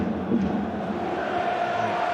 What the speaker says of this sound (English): that gets a round of applause from the Partick Thistle supporters